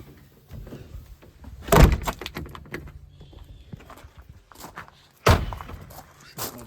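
A lodge door is pulled shut, giving two heavy thumps a few seconds apart amid faint shuffling and small knocks, close and fairly loud.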